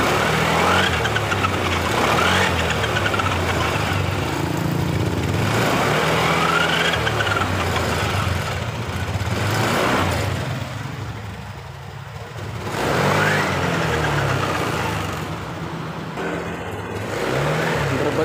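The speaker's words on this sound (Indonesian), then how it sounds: "Motor sudah hidup, tapi malah rada berebut seperti ini." A Honda BeAT scooter engine idles unevenly, its revs rising and falling in repeated surges close by, never settling into a steady hum.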